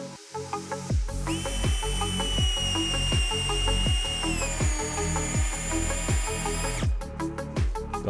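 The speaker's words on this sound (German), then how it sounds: "Und jetzt schrauben." Close and loud, a cordless drill drives screws with a high whining motor and a steady rapid ratcheting pulse. It ends in a burst of quick clicks, with no talking.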